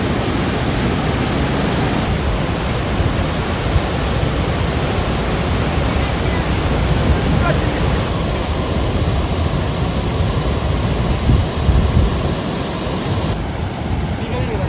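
Kuntala waterfall in heavy flow gives a loud, unbroken roar of rushing water, close and steady for the whole stretch, while people talk faintly beneath it.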